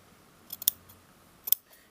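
Scissors snip through jacket fabric to make clips at a princess seam, a few quick crisp cuts in two short bursts, fairly quiet with no talk.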